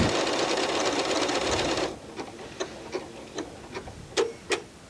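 A Janome Horizon sewing machine stitching a buttonhole sample, running in a steady fast whir, then stopping and giving a series of light separate ticks and clicks.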